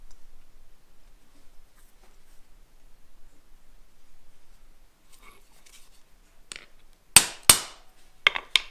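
Hammer blows on a steel centre punch in a workshop: two sharp, loud metallic strikes close together, then a couple of lighter taps, after a stretch of near silence with faint handling noise.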